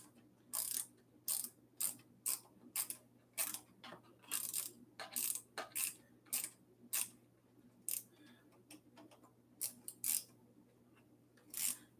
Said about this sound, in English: And really happy to have the ratchet wrench for these.